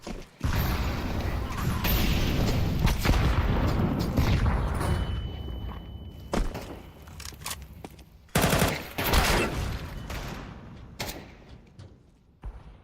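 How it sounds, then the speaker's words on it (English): Bursts of gunfire and a sharp explosive boom in a Counter-Strike match, with rapid shots, mechanical clicks and a sudden blast midway, loud and close. "I'm throwing a grenade."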